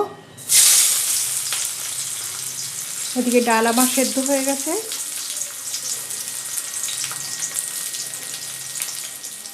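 Raw onion sizzling in oil alongside fried dried red chillies, a steady close crackle heard for the whole stretch while someone speaks briefly over it.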